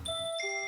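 Synth bell tone like the Astral Observatory bell: a single bright chiming strike with sustained pure overtones ringing clearly, followed by a second higher chime, alone and close.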